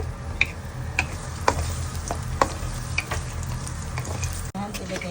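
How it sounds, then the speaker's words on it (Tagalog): Carrots frying in a pan, a steady sizzle with occasional stirring clicks and taps of a utensil, close and moderately loud with no talk. "Umpisahan muna natin iprito ang carrot."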